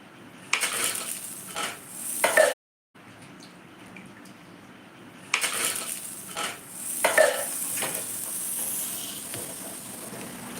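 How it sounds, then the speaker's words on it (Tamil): Dosa batter poured onto a hot pan and frying, with soft sizzling, scraping and utensil clatter in two bursts separated by a brief silent gap, with no speech. "தோசை ஊற்றிட்டேன், 2 தோசை."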